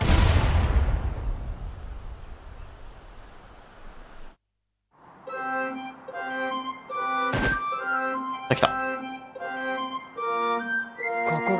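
Cannon launch in the video game Secret of Mana 2: a loud booming blast decays into a rushing whoosh over several seconds, then cuts to silence before game music resumes with sharp percussive hits.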